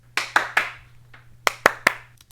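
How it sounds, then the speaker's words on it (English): Two quick bursts of sharp hand claps, three at first and then three more after a short pause, close and crisp over a faint steady hum, used to sync audio. "the 3 claps I did in rapid succession"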